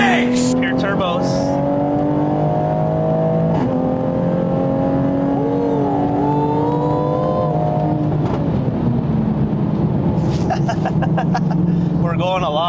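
A 2020 Toyota Supra fitted with upgraded Pure turbos runs fast, its engine drone steady with rising and falling harmonic tones, interrupted near the end by a brief cluster of sharp higher chirps, while people talk over it throughout.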